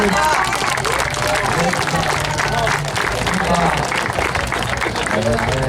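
Sustained applause from a gathered audience at a youth football tournament closing ceremony, a dense, steady wash of clapping and crowd noise with an announcer speaking over it throughout.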